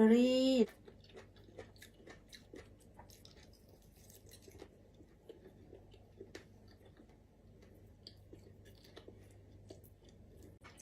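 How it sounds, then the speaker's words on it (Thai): Soft, close chewing of a sweet riceberry rice breakfast, a run of faint irregular clicks and wet bites over a quiet background after a brief burst of voice at the start. "วันนี้ จะพามากินอาหารเช้านะคะ"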